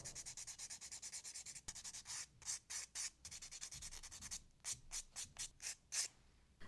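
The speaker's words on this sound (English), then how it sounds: "I can just lightly buff and remove the shine, and that's all you're doing." Nail plate being lightly buffed to remove its shine during a gel-x manicure, a quick series of soft, rhythmic scratchy strokes, close and quiet with no talk.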